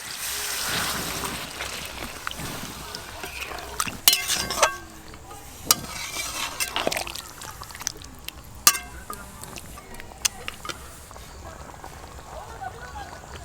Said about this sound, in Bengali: এবার আমি অল্প একটু জল দিয়ে দেব।